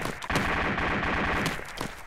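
Gunfire in the military video game ArmA 2 with the ACE mod: a rapid burst of loud, close shots, with several sharp reports echoing over a rumbling background.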